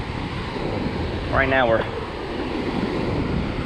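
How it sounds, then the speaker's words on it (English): Steady wind rushes across a lake near Center Hill Dam around an anchored fishing boat, a continuous breathy roar that briefly sits under a voice. "really fighting the wind to try to catch fish"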